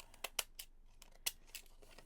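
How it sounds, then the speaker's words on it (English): Decorative edge scissors trim the border of a paper printable for a junk journal, giving a string of quiet, crisp snips at uneven intervals, close by and heard alone. "if you've got yourself a pair of these like Victorian style scissors or some decal edge scissors. You can come around and just cut the edge"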